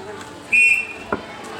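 A single short whistle blast signals the start of a children's vegetable-naming game at a school sports day, a sharp steady tone lasting about a quarter second over crowd murmur, followed by a brief thud.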